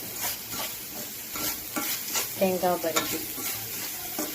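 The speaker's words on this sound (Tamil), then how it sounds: "இதை போட்டு நல்லா மிக்ஸ் பண்ணிக்கலாம்" Grated coconut and sugar are stirred in a hot pan, with a soft sizzle and spoon scrapes, while a voice briefly speaks in the middle.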